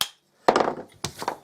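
Tapping on the bent end cap of a Hoover Senior 652 vacuum cleaner: two close, sharp knocks, each ringing briefly before fading, with no voices.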